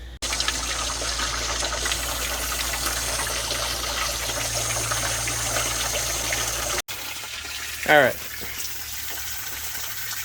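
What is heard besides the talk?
water flowing out of 1987 Freightliner truck coolant system during flush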